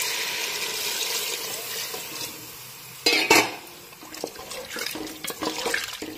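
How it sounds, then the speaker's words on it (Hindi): Water poured into a pressure cooker holding fried rice, lentils and vegetables for masala khichdi, with a splashing, bubbling pour under a steady background hiss and a sharper burst of sloshing partway through. "अब हम इसमें पानी डालेंगे दोस्तों।"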